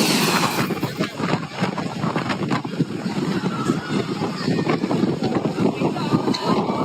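Strong typhoon wind gusts roar and buffet against the microphone, loud and continuous with turbulent rushing noise.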